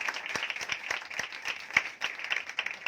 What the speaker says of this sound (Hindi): और इस कलाम के लिए जोरदार तालियां।